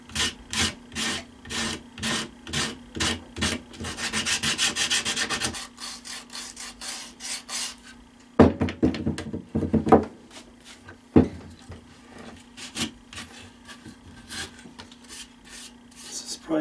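Sanding a tree root centerpiece down to the bare wood grain: rhythmic back-and-forth rasping strokes, then a continuous rubbing stretch, followed by scattered scrapes and knocks, close and fairly loud, with no speech.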